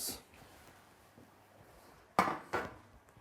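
Oven tray clatter as baked potato nests come out of the oven: a faint clink at the start, soft knocks, then two close metallic clanks near the end.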